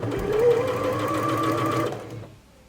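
A Janome DC6050 computerized sewing machine stitches fabric with a steady, fast mechanical whir and needle clatter for about two seconds, then winds down and stops.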